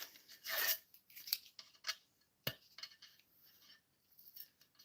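Packing tape being handled and cut in a workshop, a quiet series of short snipping, rustling and crinkling sounds with one sharp click partway through.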